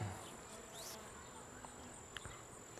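Honey bees buzz faintly around a brood frame from an open hive, a soft continuous hum with the odd bee passing close by.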